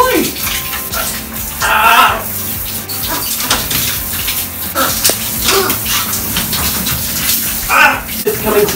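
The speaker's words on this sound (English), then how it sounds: "It's coming to the end of the shower." Shower water runs steadily, splashing and gushing around a macaw bathing in it, with bursts of spray and louder splatters as the bird moves; a person talks over the water at moments.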